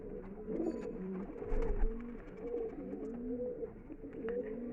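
Madrasi pigeons at a pigeon sale coo softly in a low, rolling series, several birds overlapping at a quiet, close level against faint room noise.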